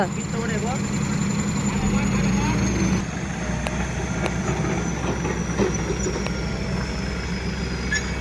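A vehicle engine starts and keeps running at a steady idle, a low rumble with a few sharp clicks on top.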